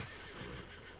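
A horse whinnies close by in a farmyard setting, a loud, dense, sustained call filling the full second with steady, rough energy and no talk over it.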